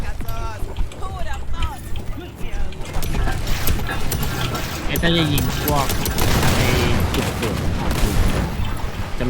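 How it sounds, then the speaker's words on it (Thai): Bursts of automatic gunfire and booming impacts fill a sci-fi shooter battle in Second Extinction, loud and continuous, with voices shouting over the chaos. "มันยิงไปสองแม็ก"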